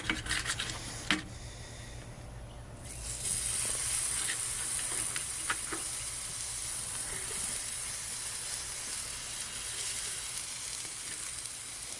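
Venison backstrap steaks sizzle on a cast iron griddle, a steady close hiss of frying that swells after a few sharp clicks and scrapes at the start and then holds evenly, with no voices.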